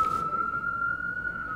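A faint siren outdoors holds a steady, high wail at one pitch through the short moment, distant and alone without speech.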